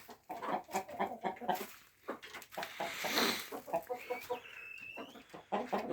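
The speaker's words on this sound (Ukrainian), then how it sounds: "я бачу півник перелетів до сестри." A rooster on a home farm clucks and calls in a series of short bursts, close by, with a brief crowing-like rise in the middle and some faint chirping behind.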